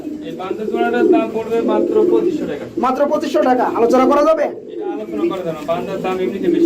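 Pair of large Banja pigeons cooing at a low-priced pigeon sale, their soft coos running under a man's continuous speech.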